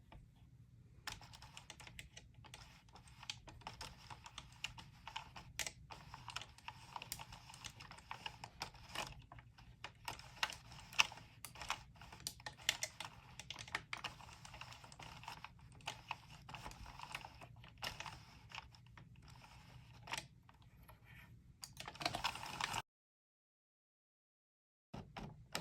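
Sentro or Addi circular knitting machine cranked through rounds with waste yarn: a long run of rapid, dry plastic clicking and ticking under a soft whirring hum, close and quiet, ending abruptly in silence.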